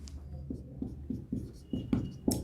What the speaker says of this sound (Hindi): लिख के बताते हैं, लिख के देखिए, यहाँ लिखते हैं